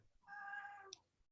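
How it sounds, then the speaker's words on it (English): A pet cat gives a single drawn-out meow, faint and fairly brief, with quiet room sound around it. "That's my cat."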